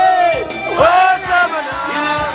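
A crowd of teenagers at a holiday club yells and whoops together, loud overlapping voices rising and falling in bursts over about two seconds.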